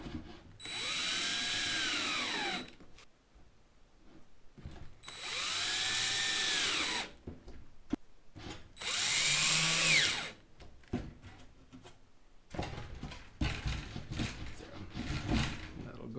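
A power drill drives screws into the wooden roof of a weather-resistant rabbit hutch: three sustained whirring bursts of a couple of seconds each, close and loud, separated by brief pauses, followed by clattering handling noises.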